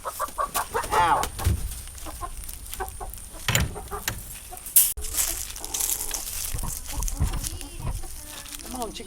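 Chickens and chicks cluck and peep close by in a fenced coop with a rooster, busy and irregular, while a person speaks intermittently over them.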